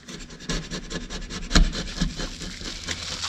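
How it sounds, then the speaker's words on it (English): A hand rubbing over a dirty surface inside a Grady White boat, giving close, rhythmic scraping strokes with one sharper knock midway. "You gotta rub your hand down there and get some dirt on there to see what's going on."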